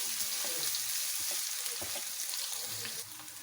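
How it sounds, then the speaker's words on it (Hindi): Onions for a desi chicken karahi fry in a pan with a steady close sizzle, with occasional stirring scrapes, dropping slightly in level near the end. "इसको भी 10-20 सेकंड के लिए हम भूनेंगे प्याज के साथ।"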